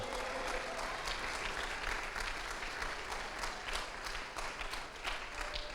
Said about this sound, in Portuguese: Olha, você devia aplaudir ao Senhor por isso.